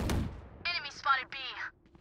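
A single muffled, distant gunshot thuds at the very start in a competitive first-person shooter game, then a voice talks over the quiet aftermath.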